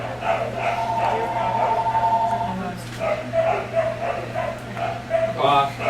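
A dog yips and barks in short bursts, with whimpering sounds in between, close by indoors while a person talks over it and a television plays in the background.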